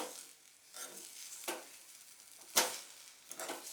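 Semolina upma being stirred in a pan gives intermittent scraping strokes, with a sharp scrape or clink near the middle, over a faint sizzle, heard close up without talk.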